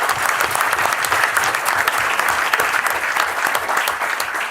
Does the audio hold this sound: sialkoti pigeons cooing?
no